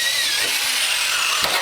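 A power drill bit spins through stacked wooden boards in a home workshop, a loud steady whine with a shifting pitch and a short bump near the end.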